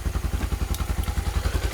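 A Honda XRE 300 motorcycle engine runs close by, a rapid, even low-pitched thumping pulse of idling firing strokes, loud and steady, with no talk over it.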